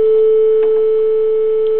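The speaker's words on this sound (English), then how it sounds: "this is what a sine wave sounds like" A steady, pure electronic tone holds at one pitch for about two seconds, smooth and unwavering with no other sounds.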